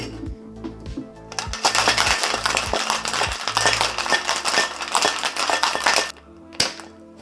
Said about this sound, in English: So we're just gonna shake this one with some 1-inch ice cubes.